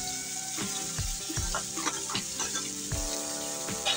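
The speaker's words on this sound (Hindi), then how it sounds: "तो हम प्याज को डाल देते हैं।" Chopped onions, four of them, hit a hot pan for a restaurant-style paneer masala and fry with a steady close sizzle, with a few clinks of a spoon stirring against the pan.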